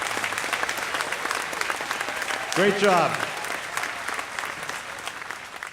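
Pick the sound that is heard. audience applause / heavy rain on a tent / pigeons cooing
audience applause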